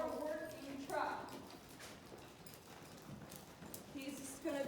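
Horse hooves trot in a steady clip-clop rhythm during a working trot in an arena schooling session, moderately close, with a rider or trainer talking over much of it.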